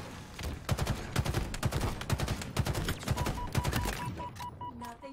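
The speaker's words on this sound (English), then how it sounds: "Nothing satisfies like a three-round burst" Rapid three-round bursts of rifle fire in the video game Halo Infinite crack out repeatedly in quick clusters. The bursts are close and loud, with a game tone beeping toward the end.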